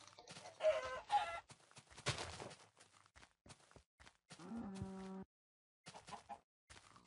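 A chicken in the video game Minecraft makes several short clucks and squawks, loud and close, with brief gaps between them and a sharp hit partway through.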